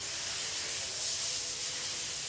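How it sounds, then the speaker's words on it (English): CRC Freeze-Off aerosol sprayed onto rusted exhaust header bolts gives a steady, close, continuous hiss lasting the whole stretch with no talk. "You have to spray it for 10 to 20 seconds, and supposedly what happens is the cold breaks up the rust"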